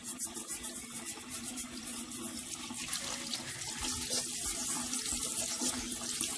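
Tap water runs steadily into a sink while a rock is washed and scrubbed with an old toothbrush. The close, continuous splashing grows slightly louder as it goes on, with no talking.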